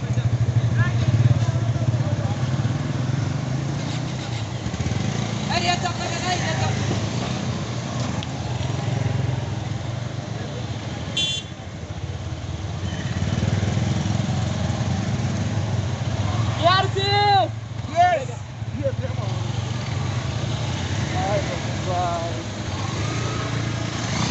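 Several motorcycles of a touring group idle and rev as a group ride gets under way, a steady engine rumble throughout with a few louder revs near the end, while people talk nearby.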